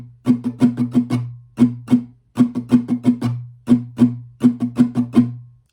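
Acoustic guitar strummed in the pattern for a song: quick bursts of down and up strums grouped in short rhythmic phrases with brief gaps, bright and close, with no talking.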